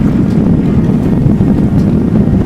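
A 65-year-old Land Rover drives at about 30 mph, a loud low engine and road rumble blended with heavy wind buffeting, continuous and close, with no talk.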